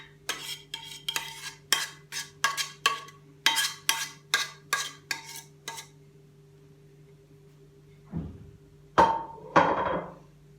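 Chicken breast is pounded flat with a series of about a dozen sharp, evenly paced thuds close by, followed by a pause and a few heavier knocks and handling noises.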